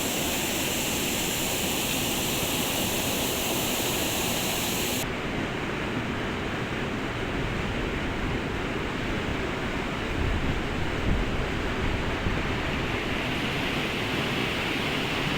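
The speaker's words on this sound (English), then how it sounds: "the sluices were above the waterline, so the water comes out quite fast" Water rushing hard out of sluice gates into a lock on the River Thames, set above the waterline; a loud, steady roaring gush heard close by, with no voices.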